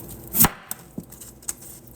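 A knife chops through a red onion on a cutting board, one heavier first cut followed by three lighter, sharp taps in an uneven rhythm, close and clear.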